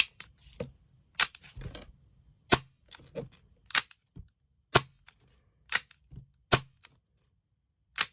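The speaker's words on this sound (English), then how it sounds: "the blowback is actually pretty intense for a pistol of this size, and with a plastic slide" A Tokyo Marui V10 ultra compact airsoft pistol with a plastic slide fires in sharp, loud blowback cracks, about eight spaced single shots mixed with smaller mechanical clicks, with no voices.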